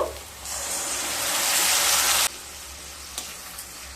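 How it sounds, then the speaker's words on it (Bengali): Onion and garlic frying in a pan for a yogurt okra curry, a loud, steady sizzle that swells for a couple of seconds, then drops to a quieter hiss with a few light clicks. "পেঁয়াজ আর রসুনকে ভালোভাবে ভেজে নিয়ে তারপর ফিরে আসছি"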